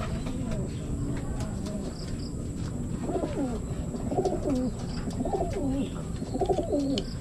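Racing pigeons coo repeatedly in several soft, rhythmic bursts close by, against a steady background hum.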